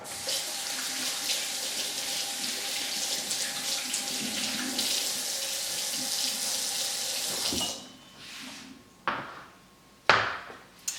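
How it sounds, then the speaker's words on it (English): Hands being washed under a running kitchen tap: a steady, close rush of water for about eight seconds, then the flow stops and a few knocks and splashes follow, with no talk. "let's wash our hands."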